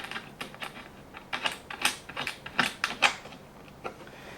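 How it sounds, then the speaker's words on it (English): A screw being turned out on an MT 1501 15-needle embroidery machine, giving quiet, irregular little clicks and ratcheting ticks close by that bunch up into brief bursts with no talk. "I'm just unscrewing this, and now I'm just going to screw it back in place"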